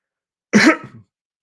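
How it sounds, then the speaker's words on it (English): A single sharp cough, loud and close, followed by a brief rough throat sound, then silence. "I'm dealing with a bad cough tonight."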